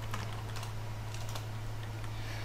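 Computer keyboard typing a chat message during a Minecraft CraftGames The Walls session, with a steady run of quick, close key taps over a constant low electrical hum.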